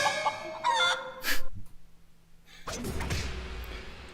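A chicken in a Lego Ninjago video game clucks and squawks in a burst of short calls, then the sound drops to near silence before a loud, rushing game noise takes over.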